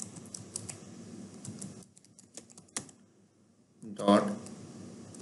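Clattering keystrokes on a computer keyboard as a setup configure command is entered, with bursts of close, quick clicks, a pause, then a louder final press, while someone talks over them.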